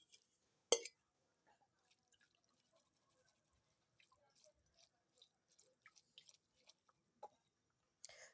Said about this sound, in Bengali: এই নুডলসটাকে আগে ঠান্ডা পানি দিয়ে ভালো মতো ধুয়ে নিলাম